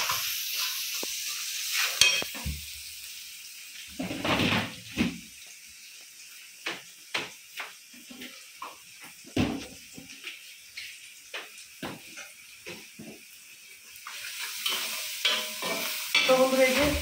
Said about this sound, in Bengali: এই যে মাংস রান্নার জন্য পেঁয়াজটা বসাই দিয়ে দিচ্ছি